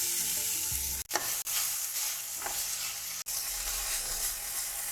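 A handful of mint leaves sautéing in oil in a kadai, a steady close sizzle and hiss broken by a few soft stirring knocks against the pan.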